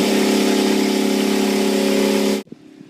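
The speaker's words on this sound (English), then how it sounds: "while my compressor is building air" An electric air compressor runs at a steady loud drone with a rhythmic pulsing hum while building pressure toward 120 psi to blow out an in-ground sprinkler system, then cuts off abruptly near the end, leaving a faint knock.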